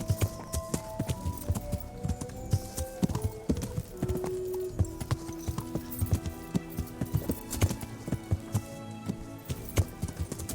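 A horse's hooves clip-clop steadily along a road in the medieval game Kingdom Come: Deliverance, a busy close rhythm of hoof strikes over soft background music, with a brief whinny and no talking.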